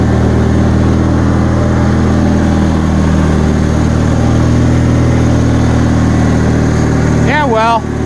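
Bolens 2000 garden tractor engine running steadily at a loud, close idle for several seconds, with a brief higher whine near the end.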